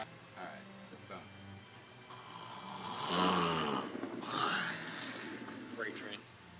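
A man imitates loud snoring with his voice, producing rough, rattling snorts in a couple of swelling bursts during a casual gaming session, with speech around them.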